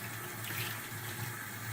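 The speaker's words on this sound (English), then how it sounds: "We'll just run some hot water here, get this filter soft and wet." Hot water runs steadily from a tap onto a dirt bike air filter, a continuous even splashing rush heard close and alone.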